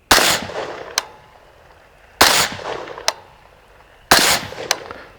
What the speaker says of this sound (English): Let's go ahead and check zero real quick with regular ammo and see if it still holds up.